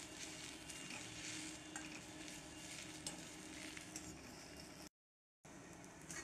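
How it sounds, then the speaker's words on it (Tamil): Thick ground sorrel leaf (gongura) paste being sautéed in a pan, a steady dense sizzle with soft scraping and stirring throughout, with a brief dropout near the end. "இந்த மாதிரி வதக்கிட்டே இருக்கோம்"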